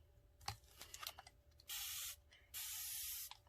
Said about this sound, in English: Okay, and then let's spray with water.